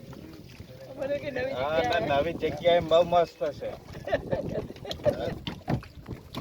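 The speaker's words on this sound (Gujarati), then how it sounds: "આપણે બોટિંગ કરી અને દૂધની લેક ઉપર ફરી રહ્યા છીએ." A boat glides across Dudhni Lake in cool weather, a soft wash of water and wind running steadily beneath nearly continuous talking.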